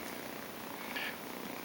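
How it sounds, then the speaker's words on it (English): Two kittens purr steadily in a soft, continuous rumble, close up and quiet, with no voices over it. "they've got both of their purr motors going like mad"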